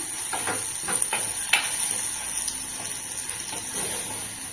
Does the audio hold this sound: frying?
yes